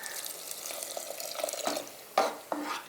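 Horse gram soup ingredients sautéed in a pan, with a soft sizzle and intermittent scraping stirs, including a few sharper ladle knocks near the end, fairly quiet and close.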